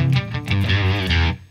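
Electric guitar runs through an Orange Guitar Butler two-channel preamp pedal with a power amp section, giving a loud, distorted, sustained riff in a short burst of thick overdriven chords with no talking.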